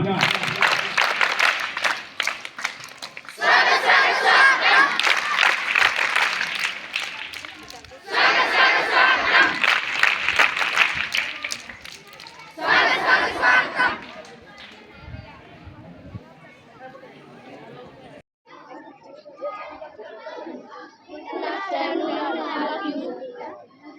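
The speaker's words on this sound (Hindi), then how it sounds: "सभी बच्चे एक साथ स्वागत ताली बजा" Schoolchildren at a government school science exhibition clapping and shouting together in welcome: several loud bursts of crowd noise and cheering that taper into quieter chatter and voices.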